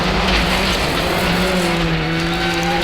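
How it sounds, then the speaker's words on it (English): A rally car driven by Colin McRae screams at full throttle through a corner. The engine is loud and close, with a rising, straining tone and a steady rasp of gravel and tires underneath. "We're full on the throttle, brake, turn into the corner, then full on the throttle all the way through the corner again."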